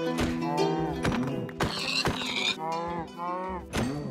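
A Minecraft cow moos repeatedly, with several clear, close, drawn-out lowing calls in a row over faint tapping and creaking game sounds, and no talking.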